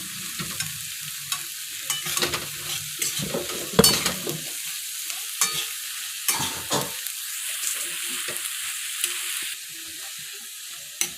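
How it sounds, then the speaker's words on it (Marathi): Shredded cabbage stir-fried in hot oil in a pan for a steamed cabbage dish, a steady close sizzle broken by repeated scraping and tossing strokes of the spatula, with no voices. "आता हा कोबी मस्त तेलावरती असा परतून घ्या"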